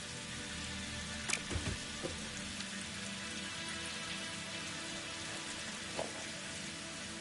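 Steady rain patters and hisses in a Satisfactory desert world, a continuous even wash of drops with a few sharper taps and knocks breaking through, no voices.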